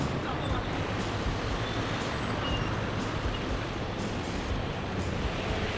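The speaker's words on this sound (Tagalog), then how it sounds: "Traffic mga kabsat." Busy street traffic outdoors on a hot day blends into a steady, broad roar of passing vehicles at moderate distance, continuous and even with no distinct horns or single passes.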